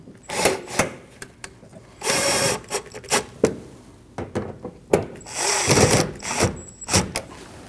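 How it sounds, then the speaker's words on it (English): A power drill drives screws into a Nissan NV2500 front inner fender liner in short, close bursts of whirring, separated by clicks, clatter and brief pauses. "You can tighten those 2 screws down."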